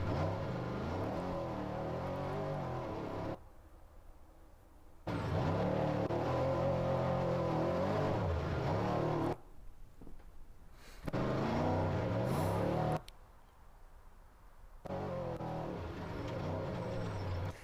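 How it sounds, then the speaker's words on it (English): An off-road race truck in the Baja 400 desert race passes with loud engine roar in bursts, revving and fading between quieter gaps as it drives through. "Truck coming through."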